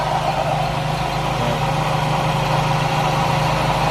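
A noisy air-conditioning compressor on a Toyota Corolla EE90 runs with the engine idling, giving a steady, close, droning hum with a low mechanical whine and no talk.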